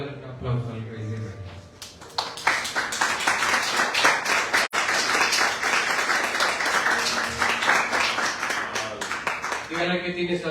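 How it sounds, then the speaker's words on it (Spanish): A church congregation in Ciudad Bolívar claps loudly and steadily for about eight seconds. Mixed voices sit under the applause, and a speaking voice is heard before and after it. "Vamos a darle un aplauso al Rey de Reyes"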